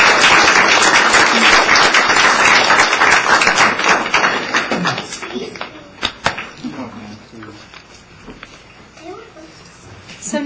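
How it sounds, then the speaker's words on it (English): Round of applause at a board meeting: many hands clap loudly for about five seconds, then the clapping thins and fades into room noise with a few scattered claps and brief voices. "Let's give him another round of applause."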